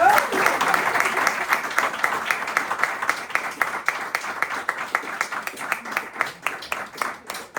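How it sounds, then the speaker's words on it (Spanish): An audience at a talk on sheep and goats in Cantabria applauds the three presenters, starting as a dense burst of clapping that thins out into sparser, distinct individual claps toward the end. "Bueno, pues muy bien, los tres, un aplauso."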